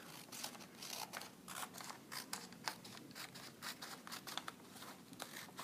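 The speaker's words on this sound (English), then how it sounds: "I'm going to take my scissors and I'm just going to cut out my image." Scissors snip steadily through paper, cutting out a traced image sized near 4x6 for a printing block, with close, quiet, rhythmic blade clicks and faint paper rustle.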